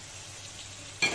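Fried fish being stirred into potatoes in a pan, a quiet steady sizzle with soft scraping, followed by a brief louder burst of stirring at the very end.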